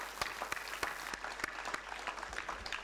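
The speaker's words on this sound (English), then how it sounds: "a great round of applause" An audience claps steadily at a school teacher's farewell at St. Xavier's English Medium School, a short burst of moderately loud applause.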